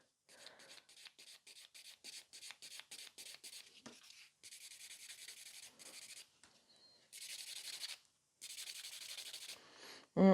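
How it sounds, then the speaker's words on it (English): A nail tip held on a tip holder is buffed with quick, rhythmic rasping strokes, close and fairly loud, coming in short repeated bursts and then in longer continuous passes. "I'm buffing on top of the tip holder, which can sometimes be quite tricky"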